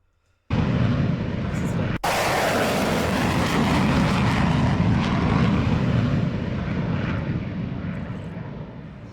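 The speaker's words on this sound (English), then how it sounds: "there you have it, the mighty F-22 Raptor" An F-22 Raptor fighter jet roars past close by, starting abruptly and sustaining a loud, broad, rumbling blast that fades slightly toward the end.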